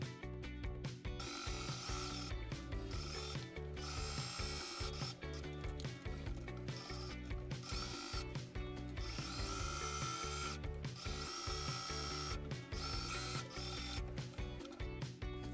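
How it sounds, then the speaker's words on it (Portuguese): A sewing machine stitches along the edge of a fabric scissors holder, giving a steady, continuous mechanical whir that runs nearly the whole time at low volume. "E leve para a máquina para costurar."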